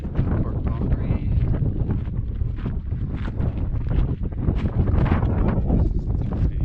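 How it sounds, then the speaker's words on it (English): Steady wind blows outdoors near a park boundary in the southwestern US desert, buffeting the microphone with a continuous low rumbling roar, close and fairly loud throughout. "It's a little breezy right now, which is good. It's coming right at us."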